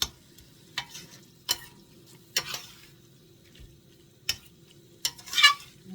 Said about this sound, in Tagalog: Gisa-gisa lang natin guys para maglabas siya ng sariling oil.